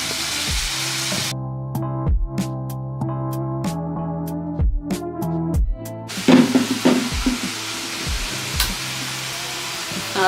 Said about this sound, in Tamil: இப்போ வெங்காயம் வதங்கிக்கிட்டே இருக்கட்டும்.